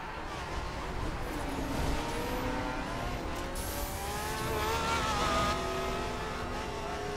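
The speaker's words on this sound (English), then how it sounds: "That Ferrari sounds crazy though." A Ferrari engine in the racing video game The Crew roars at speed in a continuous, revving drone with shifting pitch, and other cars can be heard nearby in the background.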